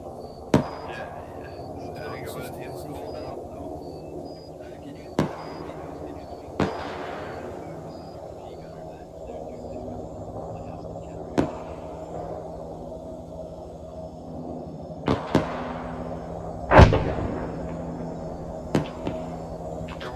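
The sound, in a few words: explosion in the video game ArmA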